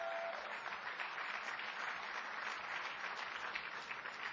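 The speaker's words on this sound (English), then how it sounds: "Let's absolutely give him a round of applause." Steady round of applause from an audience at a 2013 Republican National Committee winter meeting, a dense even wash of many hands clapping at moderate level for over four seconds with no talk.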